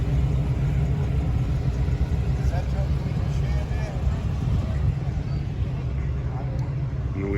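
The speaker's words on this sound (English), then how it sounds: "And we got a Fox body going the other way." A Ford Mustang Fox body car passes on the road going the other way, heard as a steady low engine rumble and road roar under outdoor ambience at a casual car meet, fairly loud and continuous.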